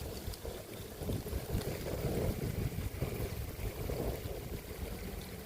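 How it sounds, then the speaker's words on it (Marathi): Strong outdoor wind roars steadily, buffeting the microphone with a continuous low rumble and gusty rushing noise throughout. "आज वारा तर लय सुटलाय फार"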